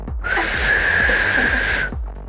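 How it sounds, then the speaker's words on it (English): A person attempts to whistle, producing a close, loud, breathy sustained tone lasting about a second and a half, surrounded by airy hiss. "Can you whistle?"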